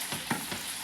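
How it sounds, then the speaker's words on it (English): Jamaican fried dumplings sizzle in hot oil as they are turned in the pan, a steady close crackle with three soft bumps from the flipping. The moment is brief and has no talk. "I'm just turning these dumplings Not the top. golden brown."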